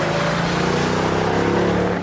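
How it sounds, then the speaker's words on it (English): A Mercedes CLS 55 AMG engine growls under hard acceleration, a loud, steady low rumble with strong droning harmonics and a constant wash of road and wind noise. "when you put your foot down, you can actually hear it growling"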